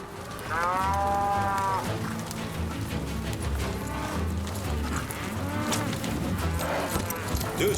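A herd of cartoon cattle being driven to the Monterey cattle market moos loudly, with long overlapping lowing calls over clattering and thudding noise.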